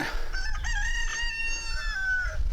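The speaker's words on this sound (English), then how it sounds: "The chickens are noisy as ever." A rooster crows loudly and close, a long drawn-out call, with chickens clucking around it.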